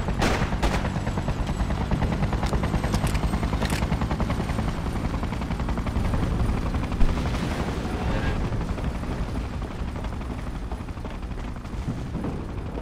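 Gunfire in the video game Freedom Fighters: a dense, continuous barrage of shots over a steady rumbling game background, loud and sustained throughout with no isolated bursts.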